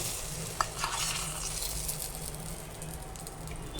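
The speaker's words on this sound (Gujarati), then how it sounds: "આપણે આ ઈદડામાં ઉપરથી ભભરાવશું વઘાર" Hot tempering with asafoetida poured over steamed idada in a home kitchen, producing a soft continuous sizzle with light stirring scrapes, close and fairly quiet.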